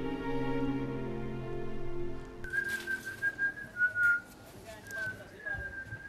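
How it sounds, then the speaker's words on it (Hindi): A person whistles a sustained, wavering tune in a neighbourhood street, starting partway through and continuing over background music, with short pauses between phrases. "मोहल्ले में सीटियां नहीं मारते किसी रैफली के बच्चे।"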